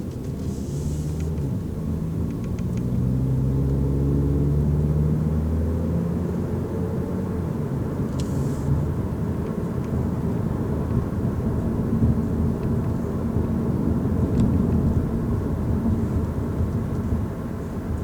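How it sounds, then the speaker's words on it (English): Road noise inside a 2012 Ford Focus SE four-cylinder on the move, a steady low rumble and hum with a few faint clicks, fairly even throughout. "Overall, the road noise is pretty quiet."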